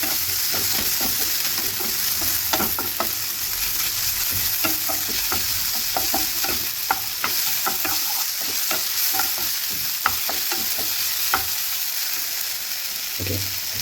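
Moringa leaves sizzle steadily in a hot pan while a spoon stirs and scrapes in irregular taps and clinks, close up and continuous.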